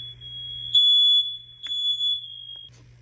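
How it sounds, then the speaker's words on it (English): A smoke alarm sounds indoors with a piercing steady high-pitched beep, repeated in two or three long tones separated by short breaks, loud and alone with no talking. "Every time there's a message, the alarm goes off."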